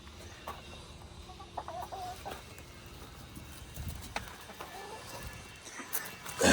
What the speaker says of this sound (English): playing chase the chicken